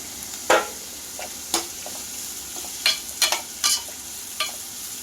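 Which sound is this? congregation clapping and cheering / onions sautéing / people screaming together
onions sautéing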